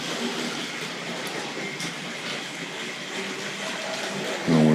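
A Tri-ang Hornby R.759 Albert Hall model locomotive pulling Western coaches runs around a layout, giving a steady, continuous rolling rumble with a brief louder burst at the very end.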